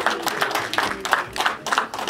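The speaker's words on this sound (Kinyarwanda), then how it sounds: "amashyi menshi" A crowd claps at a lively Rwandan celebration, bursts of applause rising and falling in uneven waves, fairly loud and close.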